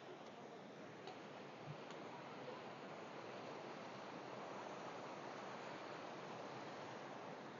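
Rushing water at Hogenakkal waterfall makes a steady, even roar that stays fairly soft and unchanging throughout, with no voices over it.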